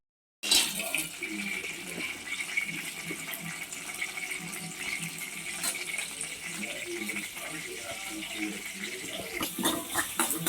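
Water poured into a cooking pot while making beef biryani, a continuous close rushing splash lasting several seconds after a brief silent start.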